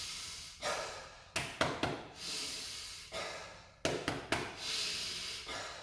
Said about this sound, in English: Breathe in deep through here.